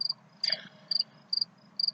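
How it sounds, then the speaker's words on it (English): Steady cricket chirps pulse at a regular pace, with a brief rustle partway through, close and distinct. "I don't know if you guys can hear all those crickets."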